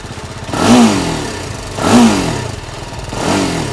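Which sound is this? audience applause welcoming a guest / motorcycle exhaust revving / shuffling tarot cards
motorcycle exhaust revving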